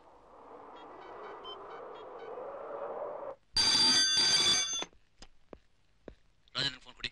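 A telephone rings in a short electronic burst after a stretch of background noise and voices, followed by clicks and a second brief ring.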